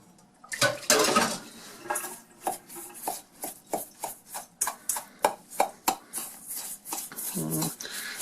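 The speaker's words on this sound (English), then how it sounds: "Then I'm going to stir this, make sure it's all moistened and good" Utensil scraping and clinking against a bowl while a mixture is stirred until moistened, a quick run of rhythmic strokes at close range with no talk.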